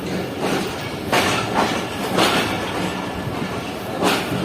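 Aboard the Sukkur Express on an overnight run from Jacobabad, loud rhythmic clickety-clack of wheels over rail joints repeats about once a second under a constant rolling rumble.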